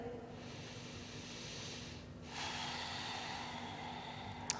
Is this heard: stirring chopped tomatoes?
no